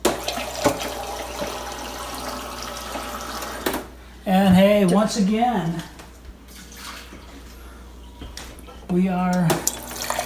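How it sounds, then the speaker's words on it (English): Water gushes from a refrigerator ice maker supply line in a few loud bursts and then runs steadily beneath a man's speech, with quieter gaps between the strong flows. "water coming out with more velocity"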